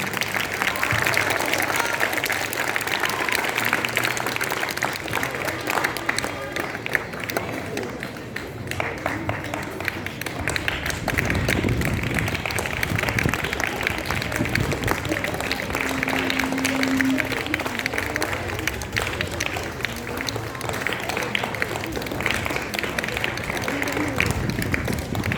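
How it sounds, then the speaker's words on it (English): Applause from an audience at a school farewell program for a teacher, a long steady roar of many hands clapping over about 25 seconds, with crowd voices and brief talk mixed in underneath. "Please give a big hand of applause."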